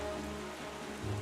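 Steady in-game rain from The Legend of Zelda: The Wind Waker in the Forbidden Woods, a continuous soft patter with a faint low drone, no voices, ending in a slightly louder low swell.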